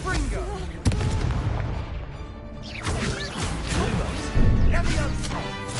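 A Confringo blast spell goes off in Hogwarts Legacy, a sharp explosive crack near the start with further booming impacts later, amid game combat sounds and a voice talking.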